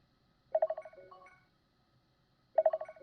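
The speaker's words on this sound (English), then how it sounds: "Alrighty, let's answer the phone." An in-game phone rings in The Lonely Assassins, a Doctor Who mobile game, with a rapid electronic trill and short tones, a pause, then the trill starts again, clean and isolated.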